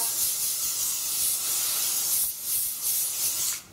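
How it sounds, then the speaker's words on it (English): An Elnett aerosol hairspray can sprays in several short hissing bursts, close and fairly loud, with brief pauses between them. "Pretty much any Elnett hairspray will do"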